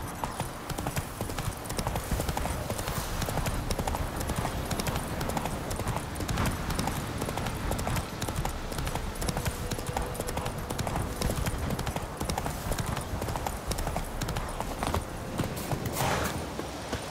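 Hooves pound in a continuous fast gallop from a horse in The Witcher 3, close and dense, running without a break over a busy outdoor game soundscape.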